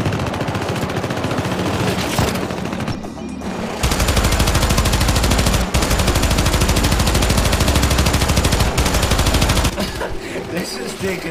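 Sustained automatic gunfire from a co-op firefight in the video game Syndicate, set in Argentina, dense rapid bursts running almost throughout with brief gaps, loud and close, with some voices mixed in.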